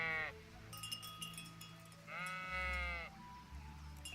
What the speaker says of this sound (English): Why is nobody watching the sheep?